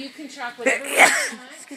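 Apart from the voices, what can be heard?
sneeze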